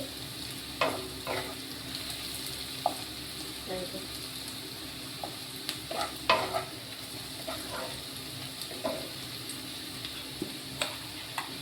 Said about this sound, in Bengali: আলু পেঁয়াজটা বেশ ভাজা ভাজা হয়ে গেছে।